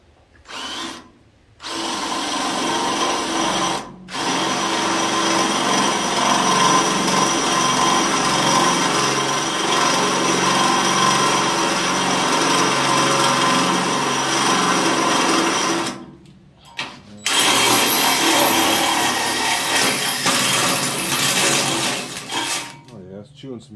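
A power drill chews through metal on a 1972 Chevy C10 truck during a long bed to short bed conversion, whirring loudly and steadily for long stretches broken by short pauses, with no talking.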